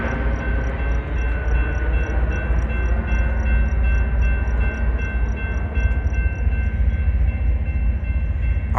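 A Union Pacific freight manifest train rolls slowly outbound at a street crossing in Tempe, giving a continuous loud rumble and rail noise with a steady high tone throughout.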